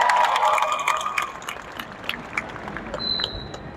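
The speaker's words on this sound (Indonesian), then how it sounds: "Tepuk tangan untuk jurnalis Indonesia." An audience claps for Indonesian journalists in a hall. The applause is a dense, moderately loud patter that holds steady, then thins out, with a brief ringing tone near the end.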